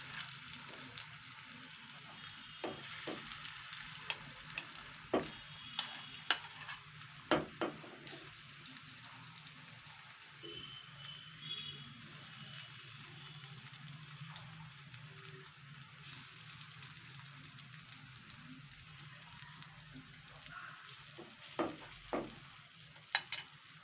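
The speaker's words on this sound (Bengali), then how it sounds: "এটা কিন্তু মিডিয়াম তেলেই ভাজতে হবে।" Soyabean pakoras frying in medium-hot oil: a soft, low hiss of bubbling oil, broken by sharp clinks and scrapes of a spoon.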